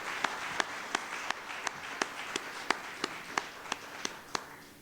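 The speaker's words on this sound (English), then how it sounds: "a huge round of applause for our primary division contestants" Sparse, evenly spaced claps ring out in a hall at a statewide MLK oratorical contest, about a dozen single crisp hits in steady rhythm, moderately distant and fading slightly toward the end.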